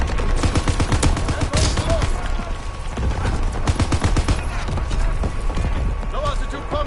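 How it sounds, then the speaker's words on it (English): Dense game battle soundscape of an artillery battery bombardment, rapid gunfire bursts and booming impacts layered continuously and loud throughout, with radio-style voice callouts mixed in. "Firing battery bomb."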